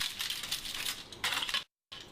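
A knife cuts through the crisp crust of a homemade pork pie, making dense, crunchy crackling bursts close up, a brief pause, then more crunching.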